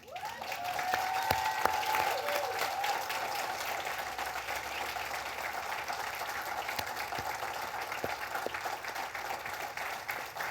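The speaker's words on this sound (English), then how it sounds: "please give a round of applause to the people who've supported you during your studies" Graduation ceremony audience in a large hall giving sustained applause, a broad, even roar of many hands clapping that holds at a steady moderate level throughout, with a brief whistle or cheer early on.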